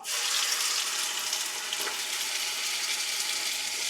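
Red chillies fry in hot oil for mango pickle tempering, giving a steady, close sizzle with a bright hiss that holds evenly throughout.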